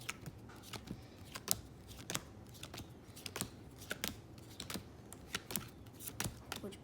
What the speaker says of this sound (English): Now I'm going to deal out 3 piles.